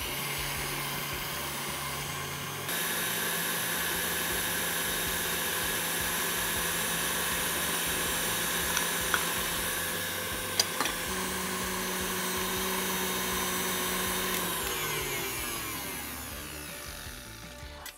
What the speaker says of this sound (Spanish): Vamos a empezar a batir y después añadiremos el azúcar glas.